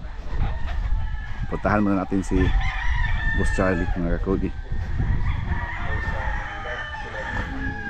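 Roosters at a gamefowl farm crow several times in overlapping calls, some close and loud, with clucking and someone talking over the farmyard noise.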